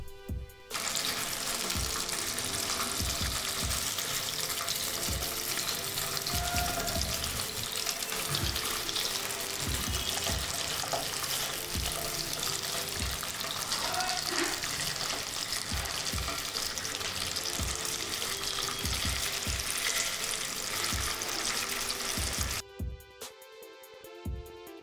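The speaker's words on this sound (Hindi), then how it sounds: "ध्यान रखें कि मछली फ्राई करते वक्त छींटे पड़ती हैं" Bata fish fries in a pan of hot oil for a Bengali fish curry, giving a loud, steady, dense sizzle with crackles and spatters throughout, then cutting off abruptly near the end. No one speaks.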